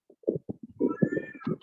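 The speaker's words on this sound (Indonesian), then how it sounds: "Ya, ada kucing." A cat meows outdoors, giving a string of short, close, wavering cries with one longer rising-falling meow in the middle, heard over a quiet background.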